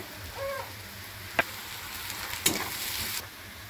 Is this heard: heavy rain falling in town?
no